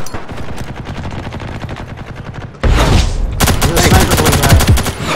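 Gunfire in a Ghost in the Shell shooter game: dense, loud rattling bursts, with a sudden jump to heavier, sharper rapid shots midway through, close and continuous with no talking.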